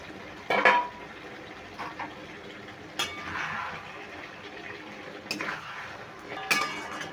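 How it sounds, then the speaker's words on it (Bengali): A metal lid comes off a cooking pot of fish curry, with sharp clinks and clatters of metal against metal at a few moments, separated by quiet stretches and soft simmering. "এবার আমি ঢাকাটা খুলে নিচ্ছি।"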